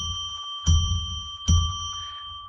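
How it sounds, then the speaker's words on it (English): A ceremonial bell struck twice, each ring bright and resonant with a long, clear sustain that hangs in the air and slowly fades before and after the second strike. "I'm going to ring a bell 3 times now to declare sacred space"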